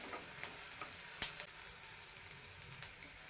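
Chopped onion sautés in oil until golden for a bitter gourd curry, giving a quiet continuous sizzle broken by light spoon stirs and one sharp clink against the pan.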